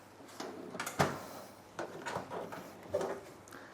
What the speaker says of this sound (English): the door kind of slammed opened when I tilt the oven